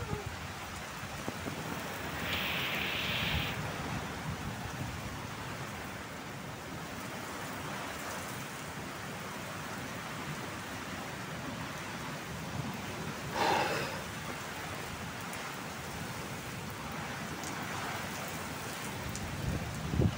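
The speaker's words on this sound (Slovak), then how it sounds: "Aspoň nejaká poranná letná búrka." Steady rain falls on surfaces during a summer morning thunderstorm, a continuous hiss with a faint rumble of thunder in the distance and a few brief sharper sounds, with no voices.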